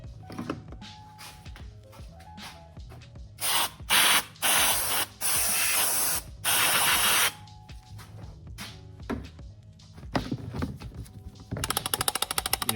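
Cleaner sprayed inside a BMW E46 M54 engine part in several loud hissing bursts of about a second each, separated by quieter clicks and handling noises, ending with rapid rattling sprays.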